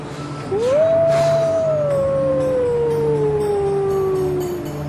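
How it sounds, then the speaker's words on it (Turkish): A single wolf howl rises and then slowly falls in one long, sustained tone, loud and clear over a faint low hum, used as a sound effect in a Turkish TV comedy series. "Kurt sesleri!"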